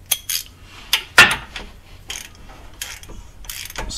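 A ratchet tightens a bolt beneath a Subaru Impreza, giving close, sharp clicking bursts in short separated spurts with quiet gaps between them.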